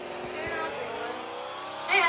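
A number 14 Tony Stewart stock car in a racing video game revs hard, its engine pitch climbing steadily and surging louder near the end, with voices talking over it.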